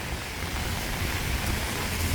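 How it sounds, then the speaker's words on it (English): Steady rain falls on a morning in New York City, a dense continuous hiss with low rumble that stays even and fairly loud throughout, with no speech. "A rainy morning. Rainy morning here in New York City."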